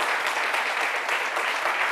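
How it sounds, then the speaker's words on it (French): Renewed applause from a studio audience on a midday television show fills the moment, thick and continuous clapping at a steady level, brief and without any talk. "on va vous porter avec des applaudissements renouvelés"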